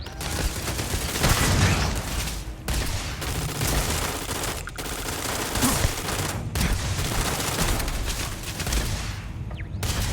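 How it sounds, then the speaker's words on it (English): Sustained rapid gunfire from a gun shooting plastic pellets at a robot in the video game Starfield, dense bursts of loud shots continuing almost without pause with a few brief gaps. "I think I'm shooting plastic pellets at this robot."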